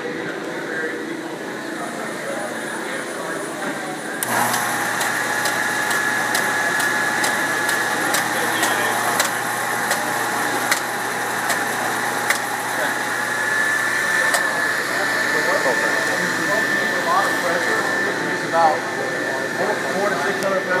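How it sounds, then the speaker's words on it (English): Drywall texture spray pump driven by air, spraying acrylic orange peel knockout texture, a steady loud mechanical hum and hiss that jumps louder a few seconds in and runs on continuously. "once you get the material set on the pump, all it is air that makes it an orange peel knockout"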